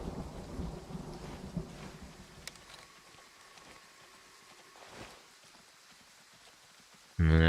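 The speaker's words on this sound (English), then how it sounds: "Thunder." Thunder in the Way of the Hunter video game rumbles low and distant under steady rain-like noise, with a fainter crack around the middle before a loud burst at the end.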